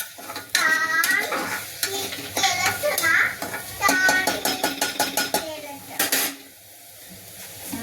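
Spinach and cauliflower khichdi ingredients stirred in a pot, a spoon clattering and scraping against the metal in quick strokes, with a child's and an adult's voices speaking over it.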